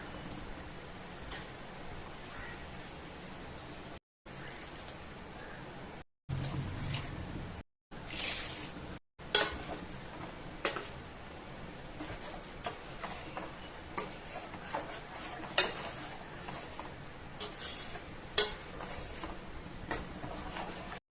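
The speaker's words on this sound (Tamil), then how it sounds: "முட்டை கிரேவிக்கு மசாலா நல்லா கொதிச்சிட்டு இருக்கு" Egg gravy masala of coconut and fennel paste simmers in a pan with soft, quiet bubbling and scattered ticking pops, steady and faint, broken by brief silent gaps.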